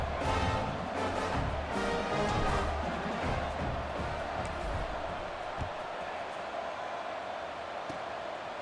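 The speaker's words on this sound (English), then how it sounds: "this crowd is buzzing after that last score" Stadium crowd in EA Sports College Football 26 buzzing before a kickoff after a score, a steady dense roar of many voices filling the whole stretch at an even, loud level.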